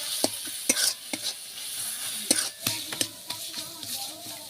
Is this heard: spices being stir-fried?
yes